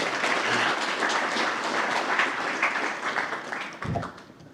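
Audience applause at a university all-hands staff meeting, a steady wash of many hands clapping that holds for several seconds and then tapers off slightly, with a brief low thump near the end.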